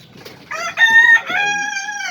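Chickens in a coop of Arab laying hens: a rooster crows loudly and close, a drawn-out call layered with clucking from the flock, short and clear with no talk.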